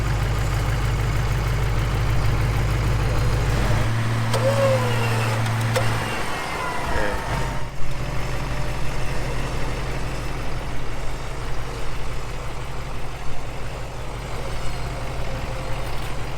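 An off-road truck engine idles steadily up close with a deep low rumble, a brief higher mechanical whine partway through, then continues rough and steady; one sharp thump sounds midway.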